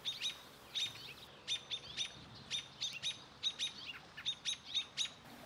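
An osprey chick cries for food in a series of sharp, high chirps, repeated in quick clusters of two or three, fairly faint against quiet background.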